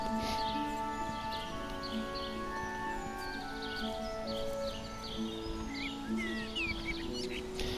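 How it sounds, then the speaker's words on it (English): Quiet, scattered bird chirps and tweets flit above sustained, drawn-out musical tones in the video game Everybody's Gone to the Rapture. "you can even hear the birds in the background."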